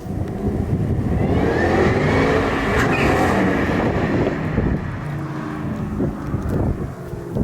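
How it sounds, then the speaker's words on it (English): A Ford Shelby GT500 with its supercharger whining over engine noise, loud and steady throughout, with wind buffeting the microphone as the car passes or drives. "there's nothing better than a little blower whine from a snake on a Sunday"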